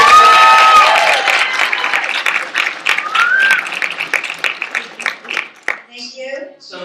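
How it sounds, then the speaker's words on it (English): Audience applause at a 2011 film festival talk after a documentary screening, loud crowd clapping with cheers and whistles that gradually thins out over about seven seconds. "Round of applause."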